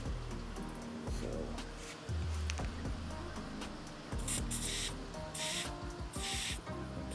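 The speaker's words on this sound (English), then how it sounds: "spray quite a bit in there." LPS penetrating lubricant sprays from an aerosol can into a bearing in short, close hissing bursts, with some handling clatter in between.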